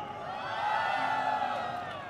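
A large indoor crowd of SNH48 fans cheers and screams at the Tencent Games Carnival, a steady, loud wash of voices that swells in the middle and holds for about two seconds.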